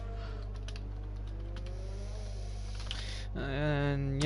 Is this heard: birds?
no